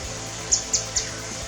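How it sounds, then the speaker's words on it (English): A small bird gives three short, high chirps in quick succession, faint and distant against a quiet outdoor background on a mountain drive. "I can hear a bird."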